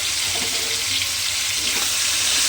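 Chicken pieces frying in hot oil for mixed fried rice, a continuous bright sizzle that stays loud and close throughout without pause.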